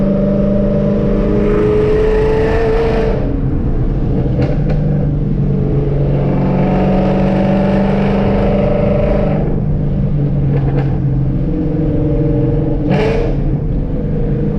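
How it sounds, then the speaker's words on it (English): An S197 car engine revs up and drops through several downshifts, loud and continuous, with the pitch falling and rising again in repeated waves. "downshift sounds so stupid on this car"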